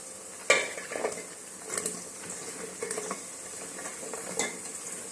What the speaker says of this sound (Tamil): காயை நல்லா வதக்கி விட்டுக்கலாம்.